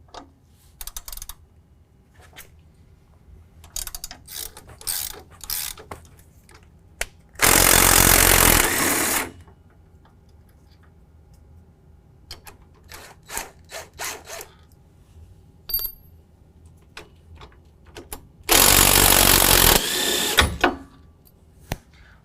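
A ratchet works 15 mm bolts out of the lower control arm on a 2019 GMC Sierra 1500 during a lift-kit strut removal, giving two loud sustained bursts of rapid clicking amid scattered clanks and taps in a quiet garage.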